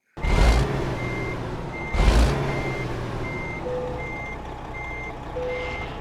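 A Kenworth W900 truck in American Truck Simulator backs up with a steady run of evenly spaced reversing beeps, opened by two loud bursts of air-brake hiss, all under a low idling rumble.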